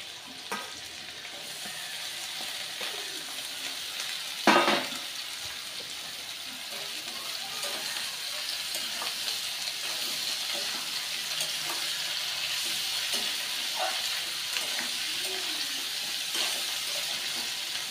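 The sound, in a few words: capsicum and vegetables frying for fried rice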